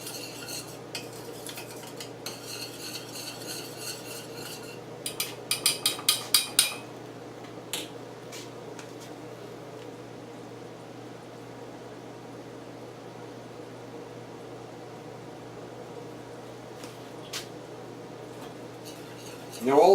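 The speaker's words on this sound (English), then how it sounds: "Now all the time you want to keep stirring your sauce, and I know it's simmering." Simmering garlic shrimp Alfredo sauce is stirred in a pan: a short burst of rapid spoon clinks against the pan rises midway over a steady, low kitchen hum, with only faint scattered taps otherwise.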